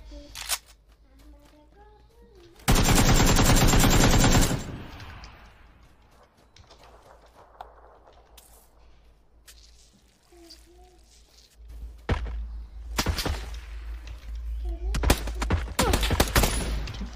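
Gunfire in the video game PUBG: a loud dense burst of rapid automatic shots, then scattered single shots and further bursts later, with quiet game ambience between and a voice briefly audible.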